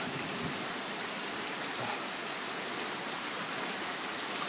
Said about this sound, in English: Man, it's pissing down.